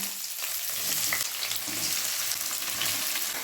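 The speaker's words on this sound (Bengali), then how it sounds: "কড়াইয়ে দিয়ে দিলাম সর্ষের তেল এবারে পেঁয়াজ কুচিগুলো দিয়ে দিচ্ছি" Chopped onions crackle in hot mustard oil in a wok, a close, continuous sizzle with soft bubbling and occasional light stirring knocks.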